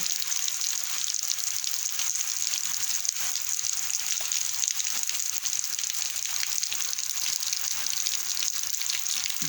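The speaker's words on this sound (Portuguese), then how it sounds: "A chuva aí, ó." Heavy rain pours steadily in Catalonia, a dense, even hiss of drops hitting the ground with no pauses, and no voices.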